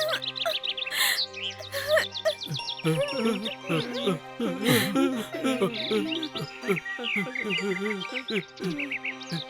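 Busy birdsong with many overlapping chirps and whistled calls, bright and close, mixed with steady tonal background sounds throughout.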